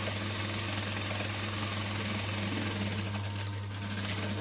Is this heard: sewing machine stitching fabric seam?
yes